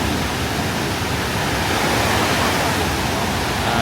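Waterfall pouring into a lake near Canmore in the Alberta Rockies, a steady, loud broadband rush of falling water that holds even throughout with no breaks.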